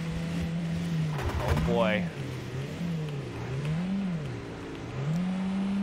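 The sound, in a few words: car engine revving in a driving horror video game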